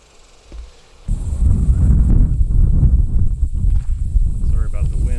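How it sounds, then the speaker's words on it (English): Strong wind buffets the microphone on a nature trail in a South Texas park with moss-draped trees, starting abruptly after a quiet second and then roaring steadily and loudly to the end. "Sorry about the wind."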